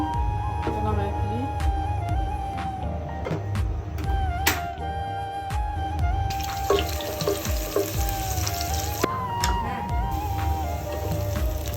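Chicken rezala frying in a pan, with a steady close sizzle, stirring, and clinks of utensils on the pan throughout; voices talk over the cooking.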